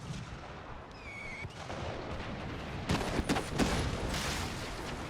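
Naval artillery fire from warships in the Imperial Destroyer video game, with a steady rumble of battle and several heavy shots booming out in quick succession, no speech over it.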